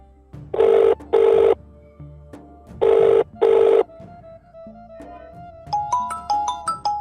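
A telephone rings in two loud double bursts, then fainter beeps and tones follow with no talking.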